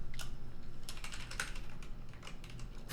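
Fast, busy typing on a computer keyboard, a dense run of sharp clicks and clacks close by, continuous throughout with no voices.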